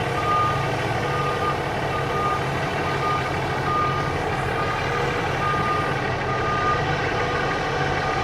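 A short wheelbase truck backs up, its reversal alarm beeping in an even repeating rhythm over a loud steady engine idle, heard close with no talking.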